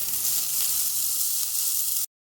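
Crushed ginger fries with onion and green chili in hot oil, giving a constant close sizzle with a soft steady hiss that stops abruptly.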